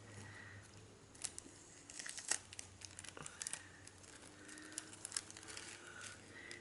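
Sticker-order packaging being folded back up by hand, with soft crinkling and crumpling, a few sharper rustles and tearing-like crackles scattered through a quiet room, close and fairly faint.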